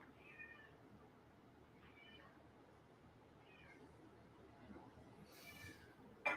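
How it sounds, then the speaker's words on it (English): A cat meows a few times at a distance, faint over a steady low background hum, with a sharper cry near the end. "I don't know if you can hear him meowing."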